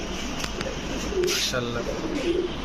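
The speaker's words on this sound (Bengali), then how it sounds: "তিনোটাই মাদি কবুতর" Pigeons coo in soft, low throaty bursts close by, with a voice talking over them.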